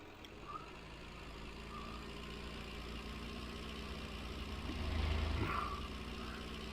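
An old tractor engine labors at steady load in a farming game, a constant low drone and rumble that swells slightly near the end, with faint higher mechanical tones and no talk.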